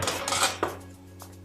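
Bread pressed into a very hot frying pan gives a brief scrape and sizzle against the metal, then a faint clink of the pan, close and quiet, with no talking.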